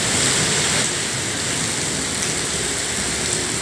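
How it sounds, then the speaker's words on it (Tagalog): Heavy rain pours steadily and loudly throughout, a dense, constant hiss of water on surfaces around a delivery rider caught out in a downpour. "lakas ang ulan"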